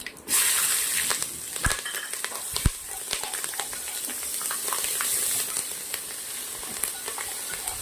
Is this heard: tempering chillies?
yes